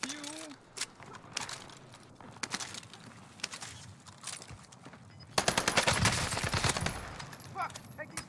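Rapid automatic gunfire in Call of Duty Warzone with an M4A1 rifle: scattered bursts, then a long sustained loud volley near the end, with a player talking over the shots.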